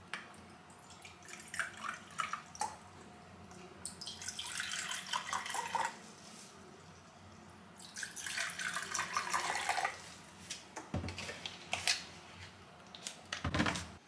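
Water runs from a tap into bowls being filled at home, a steady splashing stream with bursts of brighter spatter and drips, fairly close and alone without any talking.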